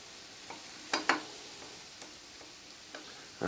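Onion, celery and peppers sizzle in a hot pan, a soft steady frying hiss with a few louder crackles and stirring knocks, with no talking.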